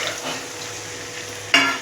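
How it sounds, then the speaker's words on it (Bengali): Water splashes into a pan of cooked-down spice masala, setting off a sudden loud burst of sizzling near the end after quieter frying and stirring. "এবার আমি অল্প পরিমাণে একটু জল দিয়ে দেবো।"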